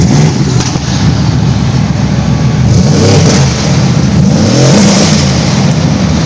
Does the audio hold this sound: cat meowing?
no